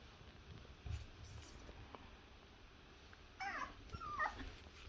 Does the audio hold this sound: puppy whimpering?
yes